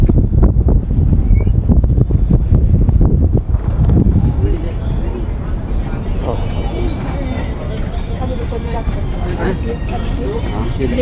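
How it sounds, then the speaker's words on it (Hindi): Strong wind buffets the microphone with a constant roar and low rumble at a roadside bus halt on the Keylong to Leh route in Ladakh, while people talk nearby. "हवा चल रही है ज़बरदस्त"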